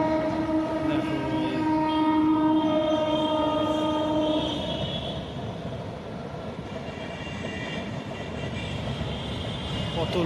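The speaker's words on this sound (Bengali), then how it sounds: "দেখো এই শামসি স্টেশনে প্রবেশ করছে এখন।" A long freight goods train enters Samsi station, sounding a loud sustained horn for several seconds over a continuous heavy rumble of rolling wagons that carries on after the horn stops, with a voice speaking briefly.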